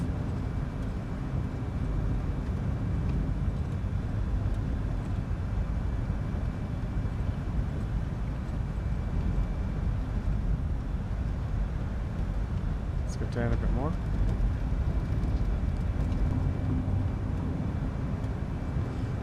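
Engines of a Fenix Airbus A320 in Microsoft Flight Simulator, on a flight from Wellington to Queenstown, New Zealand, give a loud, steady broadband roar throughout, with a brief chirp partway and someone talking over it.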